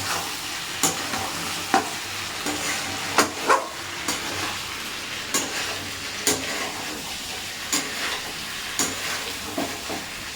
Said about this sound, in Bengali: এবার ভেজে রাখা ফুলকপিটা এর মধ্যে দিয়ে একটু কষিয়ে নেবে